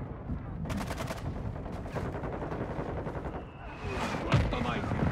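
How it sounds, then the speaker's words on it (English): A mortar strike in the multiplayer video game Modern Warfare II brings rapid bursts of gunfire and heavy explosions, loud and dense, with a voice speaking over the battle. "Friendly mortar strike inbound."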